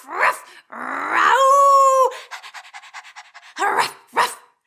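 Children imitate dogs with their voices, giving a short growl, a long sustained yelp-like cry, then a rapid run of panting breaths and a couple of closing barks, loud and close, during a Sunday service for young children.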